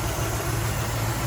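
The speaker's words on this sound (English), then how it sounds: "you can hear the engine. It sounds fine. It's a V8" A Land Rover Defender 110 with a V8 engine idles in a steady, even rumble, close and continuous, with no voices over it.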